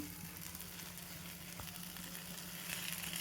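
Sweet corn and vegetables roast in a hot pan, giving a faint, steady sizzle throughout with no voices.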